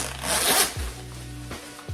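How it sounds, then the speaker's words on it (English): A chunky zipper on a Tommy Hilfiger sailing-collection jacket in matte red rasps open in a close, bright burst, followed by a few soft handling knocks and rubs. "The chunky zipper."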